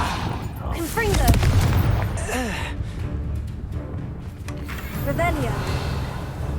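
A Confringo fire spell blasts in the Hogwarts Legacy video game, a loud booming burst followed by crackling magical effects and further bursts of game combat, with a voice talking over it.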